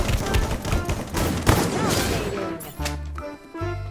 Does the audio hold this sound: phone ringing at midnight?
no